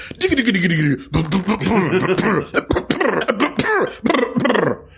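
A voice makes a rapid run of throaty coughs and grunts in a bouncing rhythm, imitating a twangy surf guitar melody.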